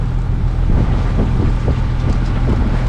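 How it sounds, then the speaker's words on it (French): A sailboat's engine drones steadily at sea off the Balearic Islands, its low rumble mixed with heavy wind buffeting the microphone and faint splashing, continuous with no voices. "on allume, on démarre le moteur"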